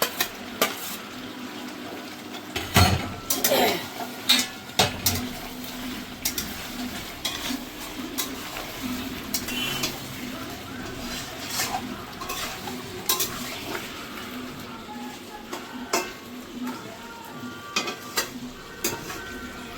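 Potatoes and fried onions stirred into sizzling masala in a pan while cooking kosha butter chicken, with a steady sizzle under repeated scraping and clinking of a utensil against the pot and a few louder knocks.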